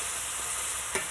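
Bacon-wrapped chicken sizzling steadily in a frying pan, with a brief clatter near the end as the pieces are flipped with tongs; no voices.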